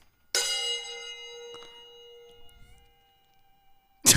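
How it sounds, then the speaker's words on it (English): A preload gong from the Total War: Three Kingdoms strategy game: one bright metallic strike that rings with a long shimmering decay, a softer clink partway through, then a second loud hit at the very end. "It's the preload gong."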